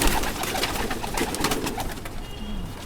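Pet pigeons with pink-rimmed eyes coo softly and repeatedly at close range, with low murmuring calls over a busy loft background.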